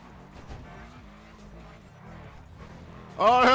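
A car in GTA Online drives along with a steady engine drone that shifts in pitch, joined by tire skidding, before a sudden loud burst of sound at the very end.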